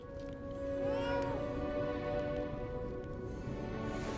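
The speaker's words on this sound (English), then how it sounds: "I should try petting the cat." A cat in the Lies of P video game gives a short, clear meow over a quiet, steady background drone of game ambience.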